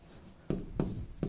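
Chalk scratches across a classroom board during a Hindi-language class 10 chemistry lesson on acids and bases: three short, firm strokes, fairly close, with no talking over them.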